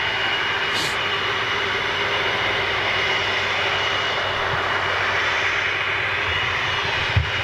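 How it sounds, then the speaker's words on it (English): Engines of an Ilyushin Il-76 jet transport roar as a steady, broad drone that holds throughout, fairly close and loud, with no talking. "you've got a very rare aircraft coming in"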